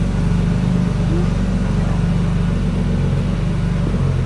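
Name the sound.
BMW E36 engine idling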